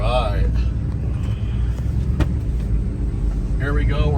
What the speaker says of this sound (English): We're gonna run her down the road here, a beautiful diesel automatic.